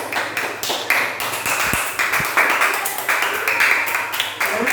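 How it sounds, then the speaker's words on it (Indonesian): A group of children in a classroom applauds with brisk, steady clapping that carries on for several seconds, fairly close and lively. "Tepuk tangan buat kelompok 1 anak-anak."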